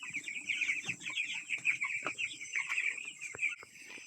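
Chickens packed into a cramped roadside coop cluck continuously at close range, a busy chatter of overlapping calls with occasional sharper squawks and no talking.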